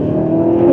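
A Jaecoo J8 2WD SUV in sport mode accelerates at full throttle, giving a steady, loud engine whir and rising drone, heard close from inside the cabin.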